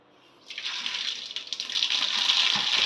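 Mustard seeds hit hot oil and burst into a sudden loud, continuous sizzle and spatter that keeps going steadily, with onion, curry leaves and green chilli waiting alongside for a beef boti gravy.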